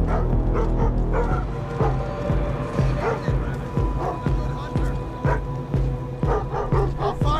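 Barking from a guard dog in the stealth video game Thief, a run of sharp, repeated yaps and whimpers over looping game music and ambience, fairly close and steady throughout.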